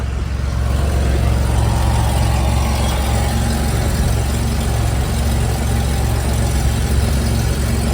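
A 2000 Chevy Camaro engine idling with exhaust leaks, a loud, steady, close rumble that holds unchanged throughout.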